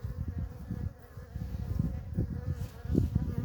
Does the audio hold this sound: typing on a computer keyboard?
no